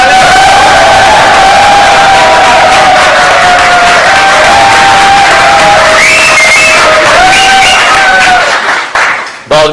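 A studio audience on a cricket comedy show breaks into loud, sustained applause and cheering, with whoops and clapping over a tonal music line throughout before it cuts off abruptly at the end.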